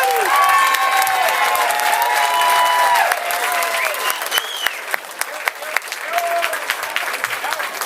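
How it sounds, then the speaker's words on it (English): Audience at a comedy show applauding and cheering, loud clapping mixed with whoops and shouted cheers that ring out over the first three seconds, then settling into lighter scattered claps and calls. "Give them a big round of applause"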